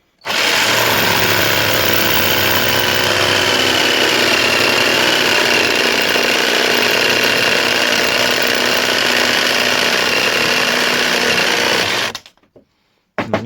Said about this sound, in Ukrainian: Давайте спробуємо врізати ще раз цей брусочок.